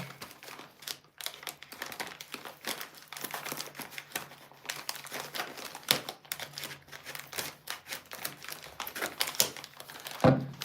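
A package is unwrapped up close: continuous crinkling and rustling of wrapping with quick tearing and tapping sounds, steady and moderately quiet, with no talking.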